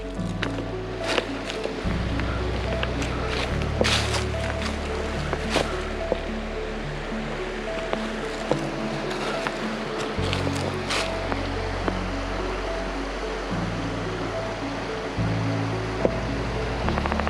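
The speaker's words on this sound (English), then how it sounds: "looks like we got another campsite here. Let's take a look at it. Right by the river." A river runs beside a backcountry campsite on the Butterfield Trail in Devils Den State Park, giving a steady, close rushing and burbling of water that stays even throughout with no talk.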